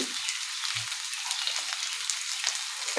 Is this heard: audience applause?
no